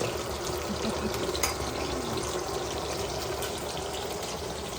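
Steady crackling sizzle of galunggong (round scad) fish frying in hot oil, a continuous dense hiss without any voices.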